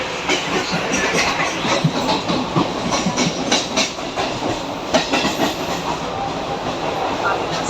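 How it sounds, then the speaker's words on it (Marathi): A Mumbai local commuter train rumbles steadily past, its wheels clattering in an uneven rhythm over the rails, loud and close with a constant roar of motion. "ट्रेन आली"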